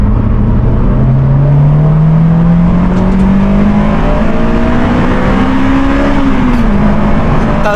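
A car engine in a racing video game drones loud and steady, the pitch climbing slowly through gear changes as the car drives on without pause.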